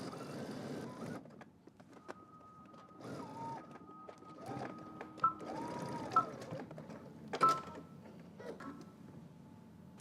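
A home sewing machine stitches a seam on a Simplicity 9824 coat, giving quiet bursts of mechanical whirring broken by short pauses, with a thin steady hum underneath.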